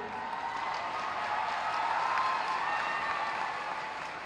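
A school audience claps in sustained, dense applause at a college founder's memorial day ceremony attended by the chief minister. The applause is fairly distant, swells slightly in the middle, then continues steadily.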